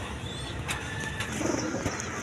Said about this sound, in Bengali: দর্শক এখানে 2 পেয়ার কবুতর আছে দেখেন, 4 পিস আছে।